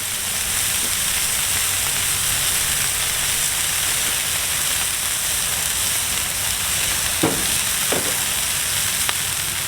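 Pepper-seasoned smash burger patties sizzling on a flat griddle, a continuous close hiss with a few small pops and crackles scattered through, no voices.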